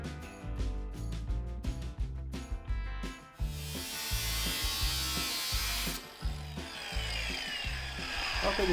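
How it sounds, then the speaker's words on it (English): A power tool cuts and grinds through the firewall of an original Jeepster in a shop, a loud continuous buzzing whine with rapid pulsing bursts and a harsher sustained grind, no talk. "There's gonna be lots of cutting and grinding."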